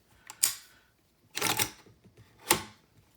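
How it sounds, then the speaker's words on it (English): An SDS Lynx 12 AK-style shotgun has its bolt locked back with a small rear button: three sharp, close mechanical clacks spaced about a second apart, each with a short metallic ring, and no talking. "So I can just push that button, locks the bolt back."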